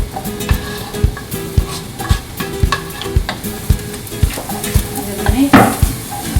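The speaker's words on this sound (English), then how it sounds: "My oil is hot. I'm gonna add the mushroom and the garlic in." Mushrooms and garlic frying in hot oil in a pan for a creamy mushroom dish, a steady sizzle broken by regular scraping stirs and clinks of the utensil against the pan, close and clear with no talking.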